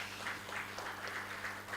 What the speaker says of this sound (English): Let's give them a round of applause for the good job.